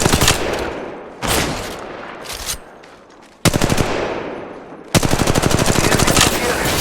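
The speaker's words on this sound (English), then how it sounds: "Shots fired at me." Gunfire in Apex Legends Mobile on the Kings Canyon map: loud, close bursts of rapid automatic fire, broken by short pauses, with sustained fast-rattling strings toward the end.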